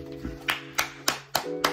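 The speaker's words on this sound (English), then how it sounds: "I usually clap at this part" Five sharp hand claps in a steady, evenly spaced rhythm, close and clear over a low sustained musical tone.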